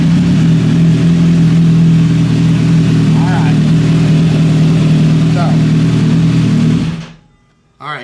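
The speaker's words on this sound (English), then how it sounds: "so I have to start the bike" A Kawasaki Z H2 motorcycle fitted with a slip-on exhaust, Dynojet PCV and Sprint filter runs with a loud, steady engine drone close by, then cuts out abruptly near the end.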